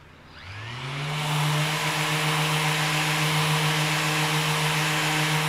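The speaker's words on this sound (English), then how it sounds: "you need to come back with whatever your finished grit of sandpaper is and just sand it down" Power sander smoothing a Starbond glue-repaired spot on wood to finished sandpaper grit, a steady loud motor whine spinning up in the first second and holding even, with broadband abrasive hiss and no talking.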